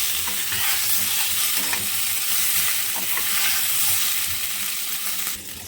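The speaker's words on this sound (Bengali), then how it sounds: "এবার আলুগুলোকে ভেজে নেব।" Potatoes fry in hot oil in a kadai wok for a home-style biryani, a loud, close, steady crackling sizzle with stirring throughout and no one speaking.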